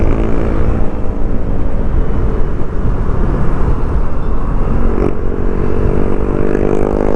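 A Honda Click 160 scooter fitted with 17-gram flyballs accelerates, its engine droning loud and steady from nearby without a break.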